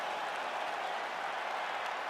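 Arena crowd in UFC 5 cheering and applauding after a full 25-minute fight, a dense, steady wash of clapping and roaring held at an even level throughout.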